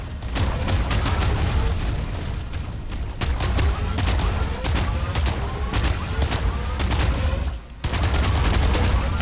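Sustained rapid gunfire in the sci-fi looter shooter Warped Universe, loud and continuous, a dense stream of sharp cracks with small gaps, over a rumbling game backdrop and no talk.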